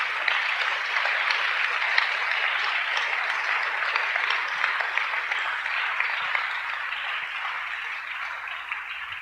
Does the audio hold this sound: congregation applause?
yes